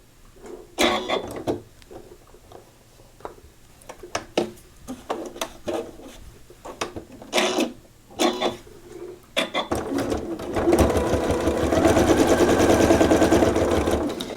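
A sewing machine stitches faux flange binding along a quilt edge: scattered clicks and handling noises first, then a steady, fairly close mechanical whir that runs continuously to the end.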